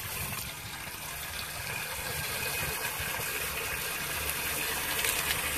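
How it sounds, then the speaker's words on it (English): A bowl of cold water is poured over a person, producing a continuous rushing, splashing gush of moderate loudness that lasts the whole moment. "This time just pour it on him, don't slap."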